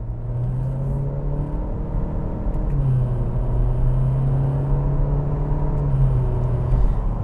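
A 2023 Acura Integra A-Spec accelerates onto a highway with paddle shifting, heard from the cabin as a steady engine drone whose pitch climbs, drops at a quick shift near three seconds, then climbs again and shifts once more, over road rumble.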